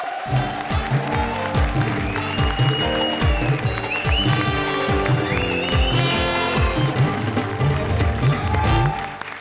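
A crowd claps loudly and continuously, with music and voices mixed in.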